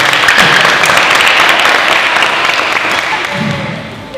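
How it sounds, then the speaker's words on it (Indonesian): Audience applause after a question at an Indonesian business talk, a loud dense clapping that stays full, then thins out toward the end as a voice comes in. "Tepuk tangan."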